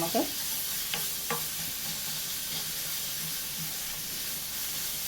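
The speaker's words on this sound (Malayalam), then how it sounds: "ഉള്ളി ആദ്യം ഒന്ന് വഴറ്റിയെടുക്കാം." Chopped onions sautéing in a pan for a bitter gourd masala fry: a steady, moderate sizzle runs throughout, with a couple of faint stirring scrapes near the start and no talking.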